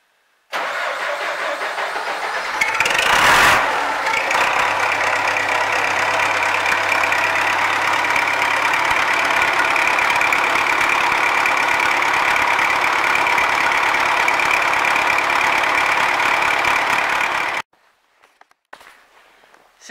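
An MTZ-82 tractor engine in a cold garage at minus 10 cranks and catches, then settles into a loud, steady, rough diesel idle for about fifteen seconds before cutting off abruptly.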